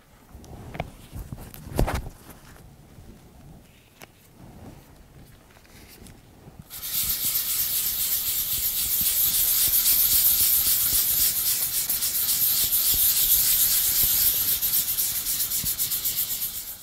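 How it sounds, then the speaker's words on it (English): Fine 500 grit sandpaper lightly burnishing a liquid bronze painted surface, a steady, loud hiss of rubbing that starts abruptly partway through after some quieter handling noises and continues without break. "grab my fine grade sandpaper. I've got a 500 grit here, and I'm going to lightly burnish the surface"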